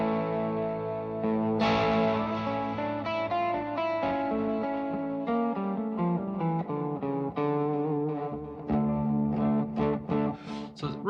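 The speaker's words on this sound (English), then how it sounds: "I've just got a little touch of reverb on my guitar, and I'm drop detuned" Drop-tuned electric guitar played with a touch of reverb and delays panned across the stereo field, ringing chords and picked notes continuing steadily and loud throughout, with effect tails trailing each phrase.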